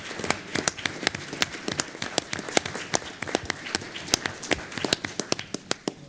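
A room applauds two community heroes at a city council meeting, with distinct, fairly sparse individual claps in an uneven rhythm and quiet room noise between them.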